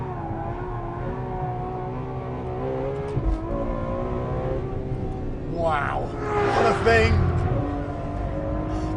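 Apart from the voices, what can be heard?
Ferrari F12 engine accelerating hard in 4th gear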